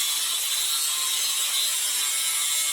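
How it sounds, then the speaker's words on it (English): An angle grinder cuts through a steel rock slider rail for a Jeep Gladiator JT, a harsh, steady high-pitched grinding screech held close for nearly three seconds before stopping abruptly. "now I'm just going to cut it with a grinder"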